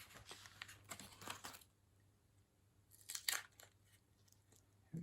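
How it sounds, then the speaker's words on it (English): Crinkling plastic wrapping is pulled off a packaged piece of a gothic Warhammer 30k terrain monument in a few short bursts, close and fairly quiet, with a low steady hum beneath. "Last thing I need to do is unwrap this and place that in the middle."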